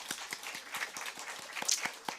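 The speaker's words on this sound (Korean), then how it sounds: "우리 97에게 한번 박수 줄까요?" A church congregation claps for the young adult group, a short burst of quiet, fairly sparse applause with individual claps audible at a slight distance.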